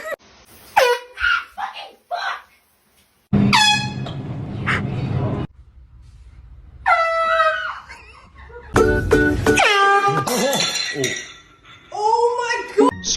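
Air horn blasted as a prank at home, several loud piercing blasts in separate bursts with pauses between, mixed with startled voices and people talking.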